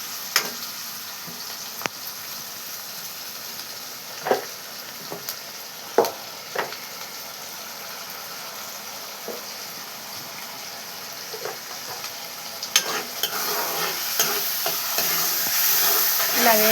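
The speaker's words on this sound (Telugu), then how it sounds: "ఇక పేస్ట్, అల్లం కొత్తిమీర పేస్ట్ వేసేసుకున్నాం. మొత్తం ఇదంతా వేగనిచ్చి" Ginger and coriander paste fries in a pan for a chicken fry, with a soft steady sizzle broken by scattered scraping stirs and clinks, and the sizzling grows a little louder toward the end.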